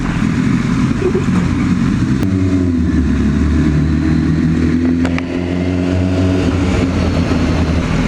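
A motorcycle engine rumbles loud and close throughout, holding a steady low drone with slight swells in revs and no speech.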